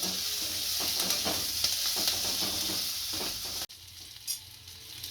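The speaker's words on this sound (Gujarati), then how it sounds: "આને ધીરે પાતે શેકશું, નકર બળી જાય ખાવ." Kathiyawadi green chillies roast with gram flour in a pan, a close, steady sizzle with stirring scrapes, and a brief break before quieter frying resumes.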